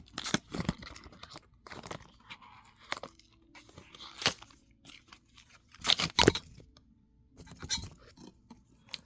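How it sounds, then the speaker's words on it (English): Cardboard crunches and tears as a small product box for a benfei USB-C to HDMI cable converter is ripped open by hand, with close, irregular bursts of ripping and crinkling separated by brief quiet gaps. "I'm gonna have to just rip into the box."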